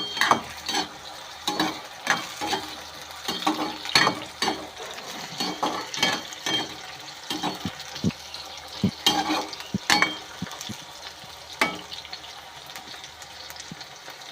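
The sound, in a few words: eggplant frying in sesame oil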